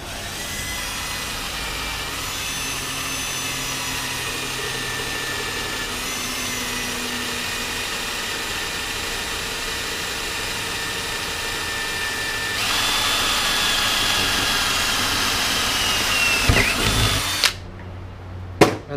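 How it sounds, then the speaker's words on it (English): A power drill fitted with a number 10 bit bores through PVC and a casting stool pedestal, giving a steady, loud, close whine that rises in pitch partway through before cutting off, with a few clunks at the end. "We're gonna drill through both the PVC and"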